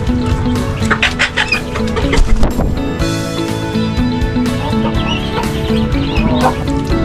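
Backyard chickens on a small farm cluck during an afternoon feeding, repeated close calls over a busy, continuous background of sound.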